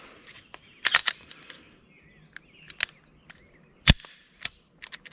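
Sharp metallic clicks and snaps from a Glock pistol being unloaded and safety checked, a handful of separate crisp clacks spread irregularly over a quiet background, close up and without talking.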